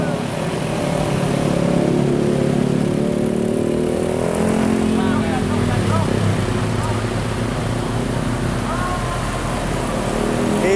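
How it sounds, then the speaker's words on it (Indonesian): A Nissan diesel truck engine rumbles steadily and loud through the whole stretch on a roadside bend in Brebes, with voices talking over it. "Nissan diesel."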